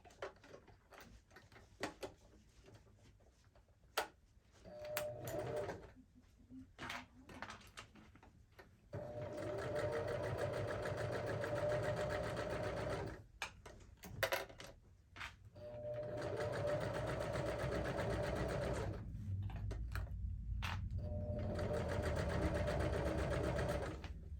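A sewing machine stitches down a seam on a sewing-together bag, running in long steady bursts of rapid mechanical whirring, with short pauses and light handling clicks between runs.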